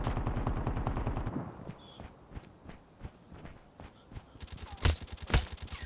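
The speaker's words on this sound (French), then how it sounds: "il me tire dessus lui." In a Call of Duty Mobile battle royale match, rapid automatic gunfire rattles out at first, then gives way to scattered single shots and a couple of heavier, louder bangs close by.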